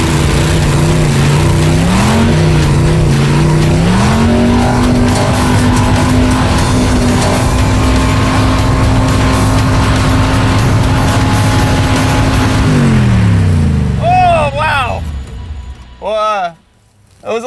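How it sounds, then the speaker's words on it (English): A Corvette-powered go-kart carving around a bowl, its engine roaring close and loud at full throttle with rising and falling revs, then tire squeal and skidding chirps as it slows near the end. "stand here and recover and enjoy as Finnegan takes off and tries to carve that bowl"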